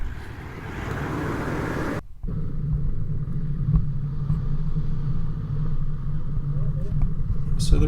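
A four-wheel drive vehicle crawling along a rutted bush track near Tallarook and Flat Rock, its engine giving a steady low rumble with brief bumps, while someone talks over it.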